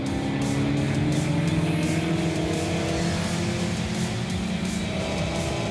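Alfa Romeo race cars compete at the Kyalami circuit, heading into the bowl with a continuous, fairly distant engine drone and a steady roar that rises and falls slightly as cars pass, with no voices.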